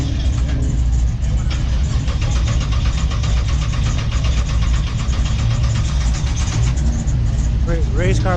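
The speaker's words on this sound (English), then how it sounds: "That's the race car start right there." A Camaro race car at a classic car meet fires up and settles into a loud, rumbling idle with a rhythmic lope close by, and people talk over it near the end.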